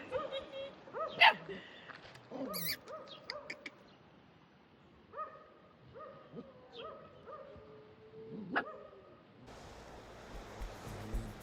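A dog barks and yips in short, scattered bursts, some close and sharp, others thinner and whimpering, while people talk nearby and a surf-like rush comes in at the end.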